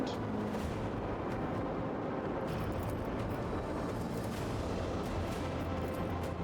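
Plasma battery barrage from a starship in the Rogue Trader video game, a dense continuous roar of booming blasts, loud and sustained, with heavier surges throughout and no voices.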